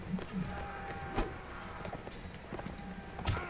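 Horse hooves clip-clop in a Mount and Blade: Warband battle, a handful of soft, irregular thuds spread across a busy backdrop of combat noise, with brief louder hits near the start and end.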